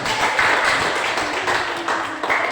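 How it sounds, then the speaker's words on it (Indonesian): A classroom of students clapping their hands together, a dense, fairly close patter of claps with small swells in loudness, sustained through the whole stretch without speech. "Tepuk tangan untuk"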